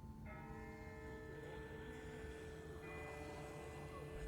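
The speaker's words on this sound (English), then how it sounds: "That's not the same bell as before. This one's further off." A church-style bell tolls faintly in the distance, its long sustained ringing tones decaying slowly over a quiet background, with a second strike partway through.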